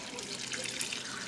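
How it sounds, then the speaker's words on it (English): Water is poured steadily into a potted houseplant, giving a continuous close splashing trickle with no talk. "I'm just going to pour this water in here, the rest of this water, and hopefully it's enough."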